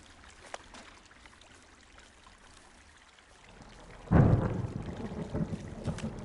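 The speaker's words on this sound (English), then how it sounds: "Hey, I heard some thunder." Thunder in the Firewatch video game: quiet ambience, then one sudden low rumbling crash that trails off into a softer rolling tail.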